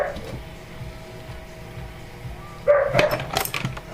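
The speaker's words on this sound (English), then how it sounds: "My dogs are busy flipping the fuck out in there." Several dogs bark excitedly in short bursts from another room, muffled at first and then louder and more agitated near the end, over a steady electronic hum.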